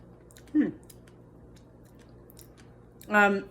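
Crunchy chocolate fudge pudding with whipped topping and chia seeds being chewed close up, two short crunchy bites separated by a quiet pause.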